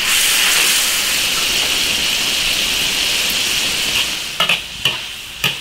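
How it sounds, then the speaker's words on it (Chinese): Eggplant and cured pork cook in an iron wok with a loud, constant sizzling hiss, followed near the end by a few sharp utensil knocks against the pan. "茄子下锅再煮个五分钟"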